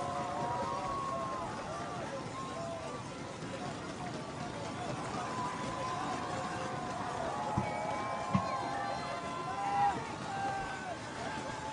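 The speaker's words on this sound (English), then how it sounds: "Good to hear the crowds out and about this high up the mountain." Spectators lining a high mountain road on Mount Etna during a cycling stage in Sicily, a steady murmur of crowd chatter and scattered shouts, moderately distant, with occasional sharp knocks.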